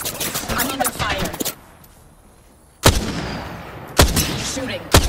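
Rapid bursts of automatic gunfire in the battle-royale game Apex Legends, loud and close, with a volley, a short quiet gap, then two more sharp bursts.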